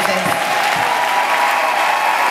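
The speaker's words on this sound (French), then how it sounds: "Applaudissez pour notre princesse." Applause from a crowd at a French-speaking gathering honoring a princess, steady and dense clapping filling the space, loud and close, with voices faintly mixed in.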